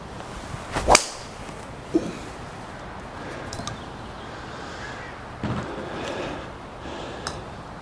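A TaylorMade Original One Mini Driver strikes a golf ball off the ground with one sharp, crisp crack, followed by quieter outdoor ambience and a few faint knocks.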